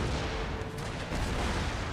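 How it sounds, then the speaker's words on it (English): Cannon fire from a battle in an American Revolution video game, a dense continuous roar of artillery booms and rumbling blasts, loud and sustained throughout with no talking. "they've definitely cut us up pretty darn well with their cannon shots."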